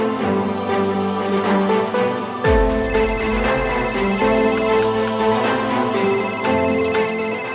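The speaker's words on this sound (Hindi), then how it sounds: "सर विकास सर की बहन का कॉल आ रहा है" A phone ringtone for an incoming call in a Galwan Valley soldier drama, a loud, close electronic melody of repeating bright tones that runs steadily with no talking.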